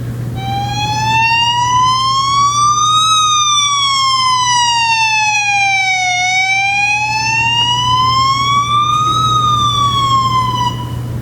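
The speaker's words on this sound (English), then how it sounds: "A siren. A siren, right?" A loud, steady emergency siren wails continuously, its pitch sweeping slowly up and down in long cycles over a low engine drone.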